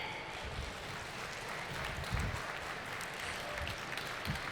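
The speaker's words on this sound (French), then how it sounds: "Et je vous demande donc d'applaudir Stanislas Brunet." Steady applause from a conference audience, a dense wash of clapping at moderate volume that holds evenly from start to finish.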